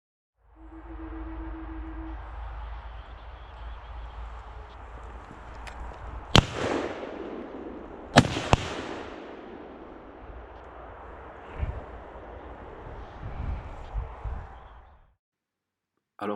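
Two hunting rifle shots fired at a roe deer during a hunt in the Ardennes, two sharp loud cracks a couple of seconds apart over steady outdoor wind noise, followed by fainter thumps and rustling.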